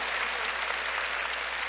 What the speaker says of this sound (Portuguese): Aplauda esse intercessor que está sendo convocado